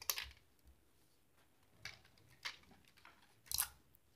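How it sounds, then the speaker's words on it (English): Scissors snipping milk test strips in a lab, a few quiet, separate crisp cuts spaced irregularly over a faint background. "Similarly, I'm gonna cut starch and boric acid."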